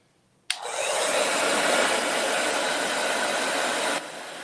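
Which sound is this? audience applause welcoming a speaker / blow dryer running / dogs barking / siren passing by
blow dryer running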